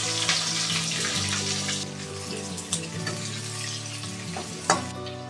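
Chopped onions frying with panch phoron in a pan over low heat, a steady hiss of sizzling oil with occasional stirring scrapes and a few sharp clinks, close and fairly loud with no voices.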